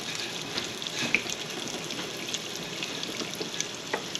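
Chicken cutlets fry in oil in a pan, giving a continuous close hiss of sizzling with scattered small pops and crackles and no talking.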